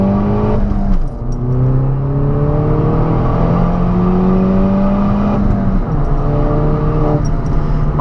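A Citroen DS3 Racing with a 203 hp engine pulls hard from inside the cabin, its note rising steadily through the revs, with a brief dip at a gear change and another near the end, loud and continuous.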